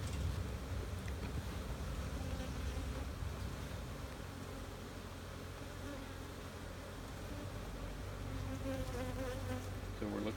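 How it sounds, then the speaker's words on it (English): Honeybees swarming around a large beehive during an inspection, a dense, continuous buzzing drone close by that fills the whole stretch with no pauses and no voices. "Your bees are already all the way over here complaining, Jacob."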